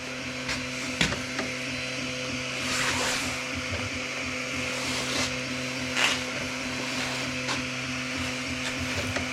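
An engraving machine burns a design into a wooden board in a workshop, giving a steady low mechanical hum with faint whirring and scattered small ticks and clicks.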